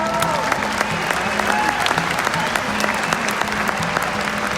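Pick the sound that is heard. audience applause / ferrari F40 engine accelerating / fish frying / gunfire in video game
audience applause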